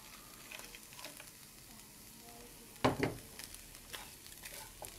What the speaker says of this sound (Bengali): তো নেড়ে চেড়ে উল্টে পাল্টে এই নারিকেলের পুরটাকে ভেজে নিচ্ছি।